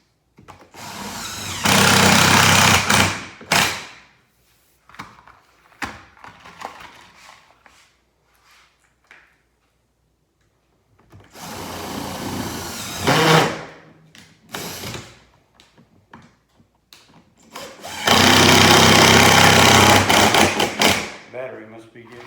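A battery-powered drill driver fastens sheet metal onto a telescoping wooden beehive top cover, running in three loud, sustained whirring bursts separated by quieter stretches of handling noise.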